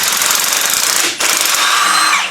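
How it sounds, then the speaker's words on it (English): A power tool hammers rapidly at a bolt during an engine swap on a 1994 Acura race car. The impact rattle is loud and close, drops out for a moment, then starts up again. "now let's undo the last bolt"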